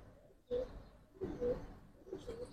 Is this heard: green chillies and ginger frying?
no